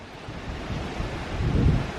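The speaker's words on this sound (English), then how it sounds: "in case it was too windy for you to hear what I was saying" Steady outdoor wind buffeting, a low rumbling roar that swells toward the end, with no voices.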